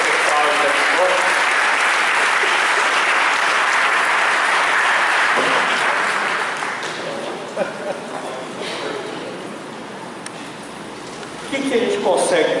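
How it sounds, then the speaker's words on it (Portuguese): A church congregation claps loudly and densely for about six seconds, then the applause thins into scattered claps and quieter murmuring of the crowd. "Uma salva de palmas para esse pessoal aí."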